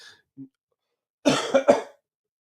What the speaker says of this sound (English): Just keep coughing on the stream